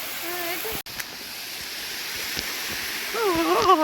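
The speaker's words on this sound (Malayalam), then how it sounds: "ഇതാണ് ആ വെള്ളച്ചാട്ടം" A small waterfall at Achankad gives a steady broadband rush of falling water, heard close and continuous, while a voice talks over it briefly at the start and again at the end.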